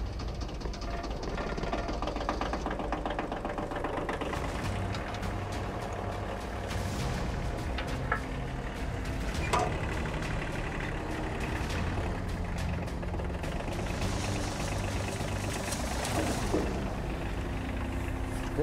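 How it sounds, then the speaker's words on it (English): A roughly 1,000-pound tractor idles on a beach while hauling a rig, its engine giving a loud, steady knocking rumble throughout, with occasional clanks and no voices. "I'm gonna start the tractor and tie this rig off."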